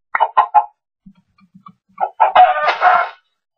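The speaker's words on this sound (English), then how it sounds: "There's a chicken here." A chicken in the Minecraft survival game gives a few short, close clucks, then quiet soft plops, followed by a louder burst of clucking calls.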